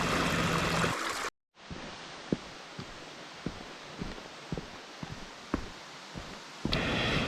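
Mountain stream rushing steadily through Baemsagol valley on Jirisan, a continuous close wash of water with a few sharp knocks, briefly cut out near the start and resuming louder at the end.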